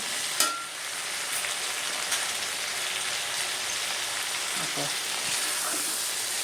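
Continuous fizzing hiss of potatoes frying in a pan, with a few soft scrapes and clinks from stirring.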